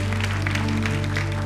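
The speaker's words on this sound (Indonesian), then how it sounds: "Sekali lagi kasih tepuk tangan yang paling meriah untuk Tuhan kita." Congregation applauding during a church worship service in Surabaya, a steady dense clapping that fills the whole moment over a sustained low musical hum.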